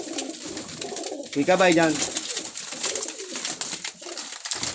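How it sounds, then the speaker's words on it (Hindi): Rampuri pigeons cooing nearby, a short burst of throaty rolling coos rising out of background noise, while someone talks around it. "ये देखो रामपुरी कबूतर"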